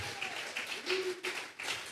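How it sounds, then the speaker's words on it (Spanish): Scattered hand claps from a church congregation at a Sunday worship service, a thin, fairly faint patter of separate claps rather than full applause, with no talking. "Vamos a regalarle ofrenda de palmas al Dios de la gloria."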